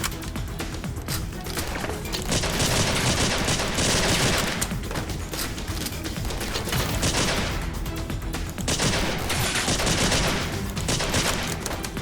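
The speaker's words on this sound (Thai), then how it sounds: "ยิงตัวนี้ก่อน" Dense, sustained gunfire from the Sift Head Reborn shooting game, Chapter 7 Ultimatum, with rapid bursts and machine-gun rattle filling the scene in loud waves throughout.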